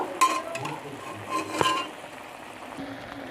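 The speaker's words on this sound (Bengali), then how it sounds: "এবার আমি নেড়ে নিচ্ছি ভালো করে" A spoon stirs mutton curry in a pot, giving soft scraping and a few light clinks against the metal, quiet and close with faint sizzling underneath.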